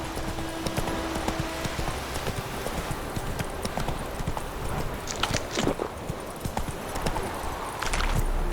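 Horse hooves clip-clop on the ground in The Witcher 3 video game, a steady walking rhythm of close, distinct hoof strikes over faint ambient game sound, with a brief neigh-like texture and no speech.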